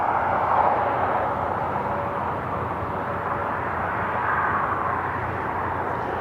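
At Cleveland Hopkins airport, an airplane taxis across runway 24 left with a loud, continuous engine roar and broad rumble that swells and eases slightly over a few seconds.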